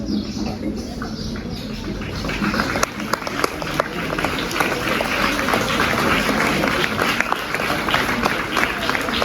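Audience at a school student-of-the-year award ceremony applauding a young pupil, sustained clapping from many hands with sharp individual claps standing out and a voice speaking over it.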